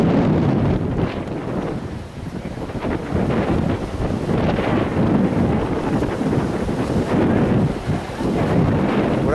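Strong wind at a beach battering the microphone, a loud, continuous low roar with gusty swells and the sea faintly beneath it, no voices.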